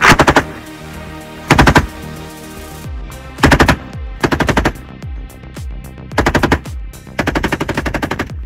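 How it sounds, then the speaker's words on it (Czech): Machine guns fire during night shooting at a Czech army range, loud close bursts of rapid shots separated by short pauses, with echoes trailing after each burst. "A my teďka už konečně přicházíme na kulomety noční střelba."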